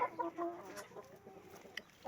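Hens about three years old, let out to graze on green grass after rain, cluck in a few short, close bursts, then go quiet with a brief call near the end.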